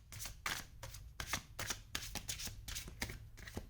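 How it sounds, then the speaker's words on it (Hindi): Tarot cards riffle and slap in a steady run of crisp shuffling bursts, close and fairly quiet, with no talking over them. "कुछ और कार्ड्स निकाल लेते हैं यहाँ से।"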